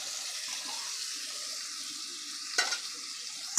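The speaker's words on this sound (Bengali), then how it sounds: "জিরে লঙ্কা গুঁড়ো হলুদ গুঁড়ো সব গুঁড়ো দিয়ে ভেজানো আছে, ঢেলে দেওয়া হচ্ছে" Soaked spice paste of cumin, chilli powder and turmeric poured into a hot pan for a fish curry, setting off a steady hissing sizzle with a sharp burst of crackle partway through.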